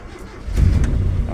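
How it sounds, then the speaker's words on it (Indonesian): A Toyota Kijang with a dead RPM indicator cranks and its engine catches about halfway through, turning into a loud, close, rumbling idle. "Kita coba nyalakan mobilnya ya."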